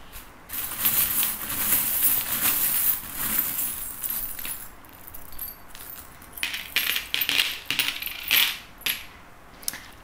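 Small divination charms are dropped and scattered, making bright metallic jingles and clinks in a string of close, busy bursts, with a few short pauses between handfuls.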